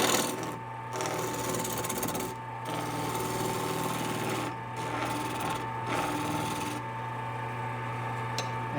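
A wood lathe turns a small lidded box while a gouge cuts, giving a steady motor hum under a continuous rasping, scraping cut that briefly eases off and resumes several times.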